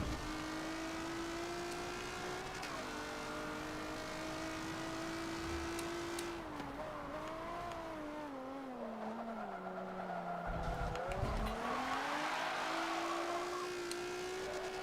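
A Lamborghini Countach race car in Forza Motorsport 7 holds a sustained engine drone that rises and dips in pitch through gear changes and corners, with brief tire squeal, heard alone and steady.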